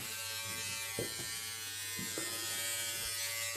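Electric hair clippers buzz steadily and close up while shaving a head, with small shifts in pitch as the blades move through hair and no talking.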